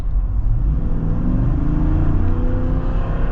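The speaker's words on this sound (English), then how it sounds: "it still sounds like a nice V8" Jeep Wrangler Rubicon 392 Xtreme Recon with its V8 exhaust valves closed in quiet mode; a steady, loud, deep engine rumble up close with slight rising revs, no voices.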